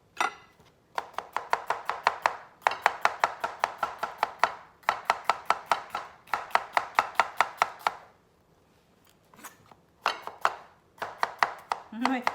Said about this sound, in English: These are chopped like just across the bitter melon.